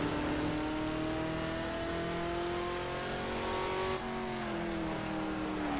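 The Batmobile's engine in the racing game Project CARS drones on as a strong, continuous revving tone whose pitch climbs and dips through gear changes, then falls slightly near the end.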